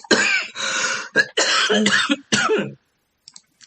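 A person coughs repeatedly, several harsh throaty bursts in quick succession, close up, then trails off into near silence.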